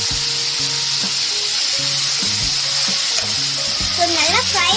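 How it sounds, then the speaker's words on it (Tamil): Chicken frying in a pan, a steady hiss and sizzle of hot oil with stirring clinks, while music plays softly underneath. "சிக்கன் வந்துட்டு நம்ம நல்லா ஃப்ரை பண்ணிக்கலாம்"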